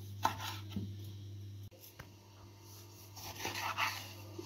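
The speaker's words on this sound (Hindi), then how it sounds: "अब हम टमाटरों को काट लेंगे, दरमियान में से इस तरह इनके दो दो पीसीस काट लें।" Knife cutting tomatoes in half on a board for a tuna salad: a few scattered close cuts and taps with a hard knock midway, over a steady low hum.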